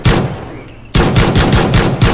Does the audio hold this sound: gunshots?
yes